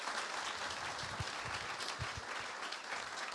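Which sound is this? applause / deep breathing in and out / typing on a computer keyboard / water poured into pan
applause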